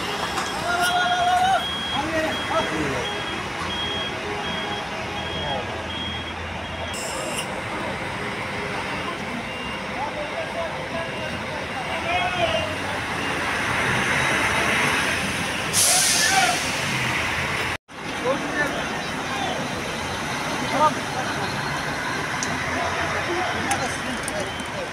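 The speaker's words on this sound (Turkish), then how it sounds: "Hocanın otobüsü geldi." Bus pulling in at Esenler bus station in Istanbul, with an air brake hiss near the middle. Steady engine and roadway rumble runs throughout, and people talk over it.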